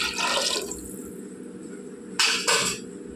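Water splashes into a cooking pot for mutton biryani in two short bursts, one at the start and another near the end, with a quiet gap between and faint clinks of the pot.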